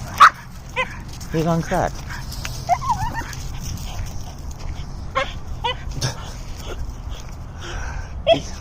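At a dog park, a dog gives scattered barks and yips, some near and some farther off, mixed with someone talking and outdoor background noise.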